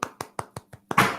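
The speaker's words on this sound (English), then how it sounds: "There's claps all the way around here, B." Five quick, sharp hand claps, close and evenly spaced, then a louder, fuller burst of clapping at the end.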